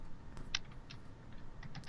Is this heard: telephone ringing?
no